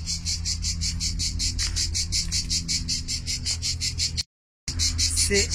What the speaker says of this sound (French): Entendez-vous les cigales?